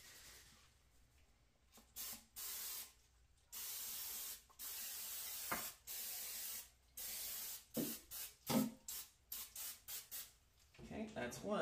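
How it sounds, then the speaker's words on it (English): Several short hissing bursts of cooking spray onto gumdrop molds, starting with longer sprays and then a rapid series of quick puffs, close by. "cooking spray"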